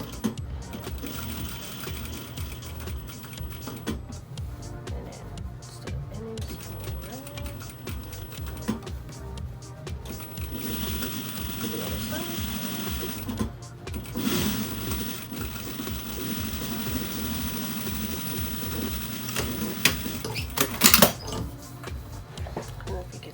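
A sewing machine stitches a reusable fabric face mask, its fast rhythmic needle chatter running steadily and close throughout, with pauses and brief bursts as the fabric is guided and a faint clatter near the end.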